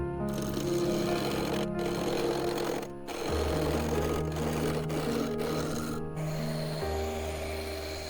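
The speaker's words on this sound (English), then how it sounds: "I mounted it on the lathe and began shaping the central post" Wood lathe shaping a walnut blank into a post, a steady whirring drone with a motor hum that shifts pitch as the tool bites, briefly dipping a few times, close and continuous, with no talk.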